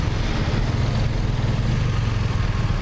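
Several motorcycles idling together before a group ride, a steady, dense low engine rumble that holds evenly throughout at moderate loudness with no talking.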